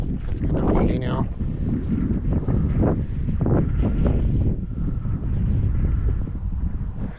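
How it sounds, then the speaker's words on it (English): Steady wind blows through an outdoor cemetery among gravestones, a continuous broadband rush buffeting the microphone, with people talking over it throughout. "It's kind of windy now."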